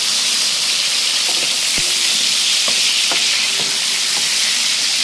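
Potatoes frying in rendered bacon fat in a pan, a steady loud sizzle with a few stirring clicks and scrapes throughout, no talking.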